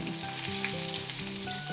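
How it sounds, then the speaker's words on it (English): Green tomato slices crackle and sizzle in hot grease, a continuous bright hiss with faint tonal hum underneath, steady and close. "You wanna work in these small batches because you wanna give your slices some frying room."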